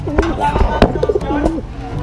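A blue bar racing pigeon coos in short, repeated throaty bursts at close range, mixed with soft handling noises and a person talking nearby.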